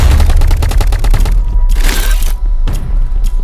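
Loud rapid automatic fire from a sentry gun in the video game Big Paintball 2, a dense stream of quick shots followed by scattered cracks and impact bursts.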